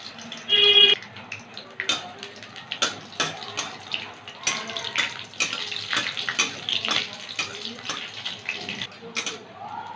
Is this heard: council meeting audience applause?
no